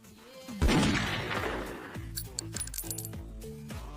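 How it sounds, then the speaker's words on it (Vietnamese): Gunfire in a highway survival video game with infinite ammo: a loud blast followed by a rapid run of small metallic clinks as spent shell casings scatter and bounce, close and clear with no talking. "Khẩu này vô hạn đạn mà vẫn văng ra vỏ đạn sao?"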